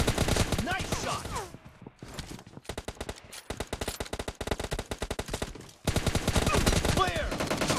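Rapid automatic gunfire in PUBG Mobile Lite team deathmatch: dense, loud bursts of shots in fast rhythmic strings, broken by brief pauses, with continuous game sound underneath.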